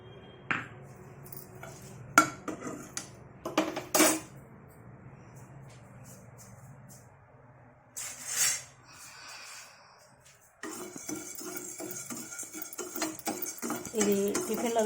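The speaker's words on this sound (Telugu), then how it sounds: "ముందు డ్రైగా వేయించుకుందాం." Cutlery scrapes and clinks against a pan while ingredients such as dried chillies are dry roasted for a chutney, with sporadic sharp clatters, quiet stretches and a denser sizzling texture toward the end.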